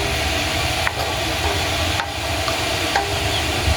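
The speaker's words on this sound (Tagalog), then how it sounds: "So, haluin na po natin para mag-mix po siya." Sardines sautéed with moringa leaves stirred in a pot: a loud, steady sizzle under three distinct scraping strokes of a spoon against the pot, close up with no talking.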